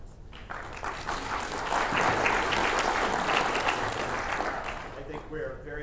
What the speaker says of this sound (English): so you should give yourselves a round of applause